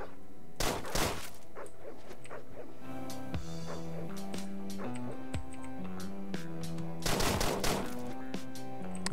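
Gunfire in the video game Deadbolt comes as loud bursts of rapid shots, one early and one late, over a steady game music track with a plodding melodic line.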